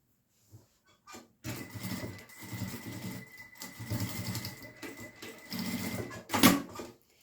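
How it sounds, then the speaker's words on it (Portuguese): A sewing machine runs in bursts of rapid stitching, sewing long basting stitches to close the side of a fabric zipper pouch. Short whirring runs are separated by brief pauses, close and clear with no talking. "Essa costurinha eu faço com pontos bem largos, só para fechar mesmo."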